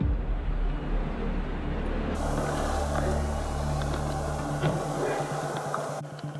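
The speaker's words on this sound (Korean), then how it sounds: "자동차 한 대가 숙소 앞에 멈춰섭니다" A car pulls up and stops in front of a lodging house, its engine giving a steady low rumble with a faint broadband wash of surrounding street noise.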